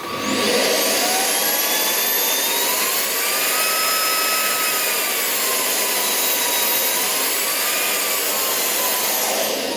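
A four-year-old cordless vacuum cleaner running on its second of three power settings, a loud, steady high whine with shifting tonal sweeps held for about ten seconds, with no one speaking.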